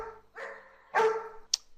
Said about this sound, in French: notre troisième aboiement est donc beaucoup plus faible que les trois autres